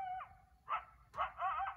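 Coyotes near a ranch give high, yelping bark-like calls in short bursts, a thin wavering note first and then two louder clustered yelps, moderately close with faint background hum.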